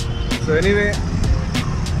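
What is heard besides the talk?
city road traffic noise near Cubbon Park, Bangalore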